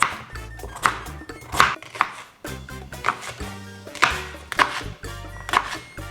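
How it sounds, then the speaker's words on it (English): A knife roughly chopping onion, carrot and leek on a board for a vegan lentil and chestnut soup, giving a close, uneven series of sharp chops in small bursts, with no talking. "And what you're going to do is roughly chop each vegetable"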